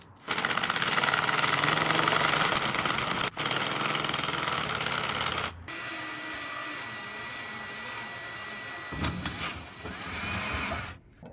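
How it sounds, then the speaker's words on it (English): A power drill bores holes into a steel truck frame rail while mounting a hydronic diesel heater on a 7.3 diesel truck, with loud whining runs that cut off abruptly and give way to quieter grinding bursts. "was drilling the holes and then bolting this thing up"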